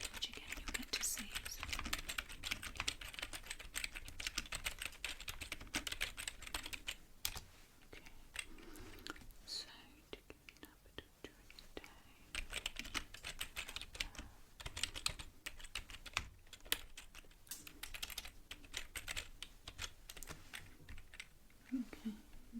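Steady, soft typing on a computer keyboard, close and continuous, with a brief lull in the middle and a few louder key presses; the setting is a quiet ASMR-style questionnaire session.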